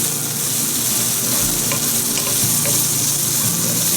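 Garlic fries with softened onions in a pan, giving a loud, continuous close sizzle with light stirring clicks and no talking.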